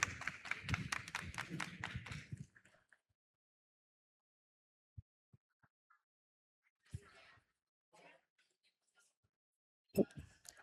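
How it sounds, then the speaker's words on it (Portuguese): Audience clapping at a stage session on women's leadership and wellbeing: a dense burst of applause for about two and a half seconds that cuts off, followed by near silence with a few scattered soft taps and thumps. "Uma salva de palmas."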